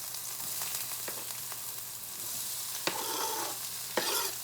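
Onions sizzle steadily in a hot frying pan over a gas flame, a continuous close frying hiss broken by a couple of sharp clicks and stirring sounds.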